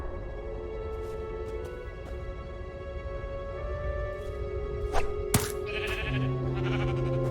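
A sheep bleats in Minecraft Story Mode over a steady tonal game music bed, with a bright coin-like chime and a few clicks near the middle before a drawn-out wavering bleat at the end, no talk.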